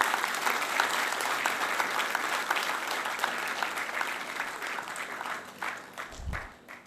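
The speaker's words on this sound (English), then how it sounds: "Now, let us give them a big round of applause." Applause from a conference audience on quantum physics and consciousness, steady dense clapping from many hands at moderate level that thins out and fades near the end with a low thump.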